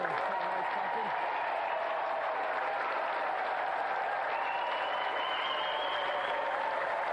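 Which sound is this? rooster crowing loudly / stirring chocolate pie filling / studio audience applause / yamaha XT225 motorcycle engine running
studio audience applause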